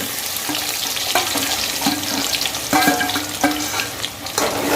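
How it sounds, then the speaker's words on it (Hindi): Finely chopped onion fries in hot oil with bay leaf and cumin, a steady close sizzle with intermittent scraping stirs of a spoon in the pan, no talk. "प्याज हमारा हाफ फ्राई हो गया है, आधा।"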